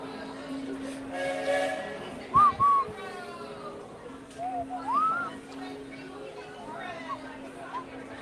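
The train at a Magic Kingdom station sounds two short whistle toots near the middle, followed by further rising whistle notes among a murmur of crowd voices and station noise.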